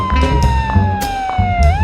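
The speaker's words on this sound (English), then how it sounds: "Cop car going uptown hits the siren as it passes." New York police car siren passing on Broadway at night, a loud wailing tone sliding slowly downward then rising again, over low street traffic rumble.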